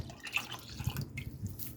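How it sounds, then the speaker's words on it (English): Water trickling and dripping as a 15-ounce tomato sauce can is rinsed out in a home kitchen, faint and close with small irregular splashes. "I'm just going to rinse my can out."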